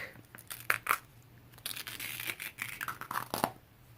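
Extra fabric peeled from an old, barely sticky Brother ScanNCut cutting mat makes soft, quiet tearing and crinkling rasps in short uneven strokes, with a low hum underneath.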